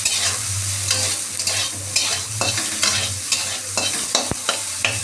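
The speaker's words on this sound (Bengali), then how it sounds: "সোয়াবিনটা আমি একটু ভেজে নিচ্ছি।" Salted soybean chunks fry in a hot pan, a constant close sizzle broken by repeated scraping and stirring strokes, with a low hum beneath.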